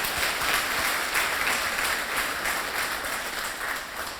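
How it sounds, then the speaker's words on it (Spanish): Steady applause from a church congregation, many hands clapping at an even level throughout without a break. "Dale un aplauso al Señor"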